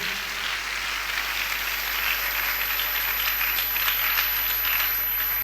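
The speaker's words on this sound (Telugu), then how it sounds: "చప్పట్లు కొట్టి దేవుడు మహిమపరచండి గట్టిగా." A church congregation claps loudly during a sermon, a dense, sustained burst of many hands applauding together that runs evenly throughout and cuts off abruptly at the end, with no talking over it.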